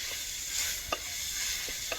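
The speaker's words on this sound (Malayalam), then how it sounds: "ഒന്നായിട്ട് ഇളക്കി കൊടുക്കാം." Chicken curry with ginger-garlic paste is stirred in a pan over an outdoor fire in a forest: a soft continuous sizzle broken by a few sharp spoon scrapes and clicks, fairly quiet.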